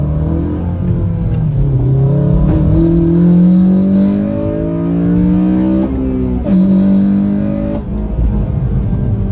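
Honda Civic Si FA5 with a newly installed clutch and flywheel pulling hard through the gears, its engine note climbing loudly, dropping at shifts, then rising again, close and continuous.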